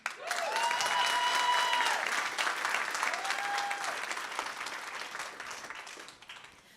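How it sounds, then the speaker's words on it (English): Sustained audience applause for speaker Hawa Ismail at a school board meeting, a dense wash of clapping that swells and slowly fades, with a faint voice briefly heard over it. "Tell us who you are so we can clap for you"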